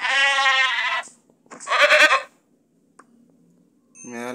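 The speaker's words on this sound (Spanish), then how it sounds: "Miren una cabra." Repeated bleats from a cloud goat in a sky-world video game: a long wavering cry, a second shorter call, then a third starting at the end, loud and near with quiet gaps between.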